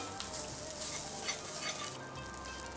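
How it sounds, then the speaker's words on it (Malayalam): Meat sizzling in a hot pan while being stirred, a soft continuous frying crackle with occasional scraping movements. "ബീഫ് ഇട്ട് കൊടുക്കാം അതൊന്ന് വരട്ടി കൊടുക്കാം"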